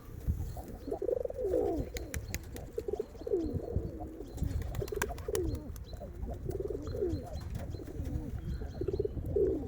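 Pigeons coo and warble steadily throughout, a close, continuous layered cooing from several birds with faint background rustle and occasional sharp clicks.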